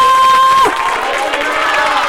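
Crowd at a Christian worship gathering claps and cheers, a steady wash of applause and voices that swells after a brief high tone at the start.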